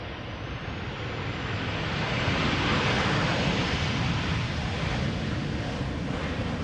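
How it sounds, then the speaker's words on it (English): KLM Boeing 737-800 airliner arriving from London Heathrow, a broad rushing engine roar that swells and then holds steady, with some wind buffeting. "We've got KLM Flight 1002 arriving from London Heathrow"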